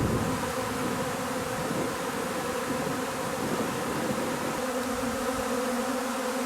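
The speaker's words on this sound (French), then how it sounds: "Je vais attendre un peu encore que toutes les abeilles se fixent. Ça vole toujours, ça vole." A swarm of honeybees settling on a bending branch gives a dense, steady buzzing that carries evenly through the whole stretch, close and continuous, with no voices.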